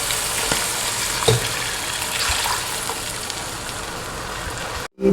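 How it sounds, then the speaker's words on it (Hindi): Green peas frying in a pot for matar pulao give off a steady, fairly loud sizzle with occasional stirring scrapes, running continuously before a brief cutoff near the end. "अब मटर हमने भून लिए 5 से 7 मिनट।"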